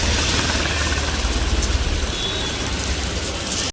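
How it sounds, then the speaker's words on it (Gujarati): Heavy rain pours down in a dense, steady roar with a low rumble beneath, continuous and close, ending abruptly. "એમ લાગે ચોમાસું આવી ગયું શું. આમ જો તડાબડી પડે"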